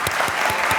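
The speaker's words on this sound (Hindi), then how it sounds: "तालियां।" Studio audience of a talk show applauds, a brief burst of dense clapping at steady volume with rhythmic peaks.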